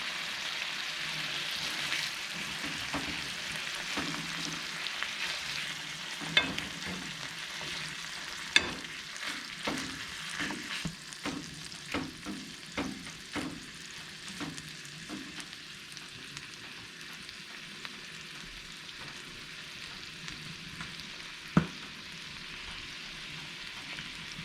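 Venison frying in a pan on an antique wood cookstove, a quiet continuous sizzle broken by scattered crackles and pops, a few sharper spits standing out.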